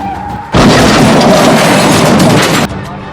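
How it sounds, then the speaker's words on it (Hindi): A loud, sustained roaring burst of noise hits after a brief quiet moment and holds for about two seconds before dropping away, like a car skidding and crashing on a road. "ओ माय गॉड, माँ शायद एक्सीडेंट हो गया।"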